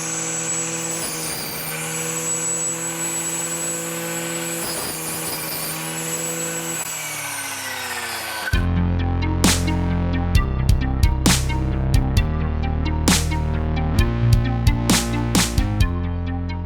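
An ECHO SRM-410U U-handle brushcutter engine runs steadily, first a strained buzzing whine, then a louder, rougher drone with repeated sharp surges as it cuts, heard up close throughout.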